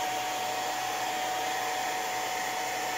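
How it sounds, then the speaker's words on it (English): A blow dryer runs continuously while drying a custom Funko Pop stand: a loud, steady, close whooshing hum with a constant motor whine and no pauses. "I'm gonna use the blow dryer real quick to kind of dry it up."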